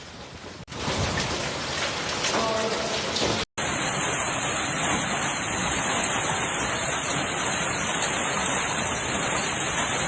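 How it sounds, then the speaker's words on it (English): Heavy downpour with hail and strong wind in Turin, a dense, steady roar of rain and wind that stays loud throughout, broken by a momentary cut near the middle. "downpours and hailstorms are taking place, accompanied by strong winds"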